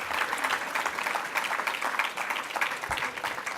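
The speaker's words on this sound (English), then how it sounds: "Give her a round of applause" Steady applause from an audience at a Sydney conference address, dense and sustained clapping filling the room without a break.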